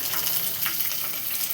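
Peanuts and green chillies fry in a pan with a steady, close, hissing sizzle and occasional soft stirring, no voices over it.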